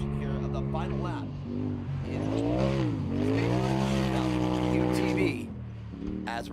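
UTVs race on the final lap, with engines revving and rising in pitch as they pass, mostly beneath a commentator's continuous talk.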